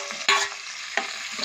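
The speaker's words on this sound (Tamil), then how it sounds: "இப்போ தக்காளி பழம் போடுறேன், அதோட கருவேப்பிலையும் போடுறேன்" Tomato and curry leaves hit a hot pan with green chillies and are sautéed. A steady sizzle runs throughout, broken by two sharp scraping stirs.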